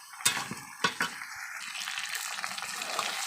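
Meat cooking down in a pan for a Bengali-style curry, frying with a steady close sizzle and a few sharp clanks of stirring near the start, no talk.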